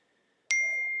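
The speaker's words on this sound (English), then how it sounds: "Why are bells ringing?" A single bright bell ding strikes suddenly and rings on with a clear sustained tone, alone in otherwise quiet surroundings.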